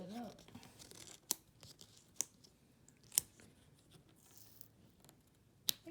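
A transparent sticker is peeled from its backing in a few short, crisp tearing pulls spread across a quiet room, each one close and brief.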